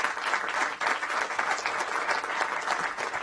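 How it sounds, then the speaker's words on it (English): Council session audience in a chamber giving a round of applause, a continuous even patter of many hands clapping at moderate volume, heard alone without talk. "Let's give her one more round of applause."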